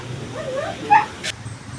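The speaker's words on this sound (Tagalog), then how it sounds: "Pag ako nakikita ng mga alaga ko nag-iingay." Pet dog giving a short, high whimpering yip close by, brief and alone.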